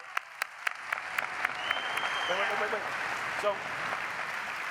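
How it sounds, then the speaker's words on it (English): Steady applause from a conference audience at Autodesk University 2022 fills the clip, with a few sharper claps standing out near the start and brief speech passing over it. "So let's a round of applause."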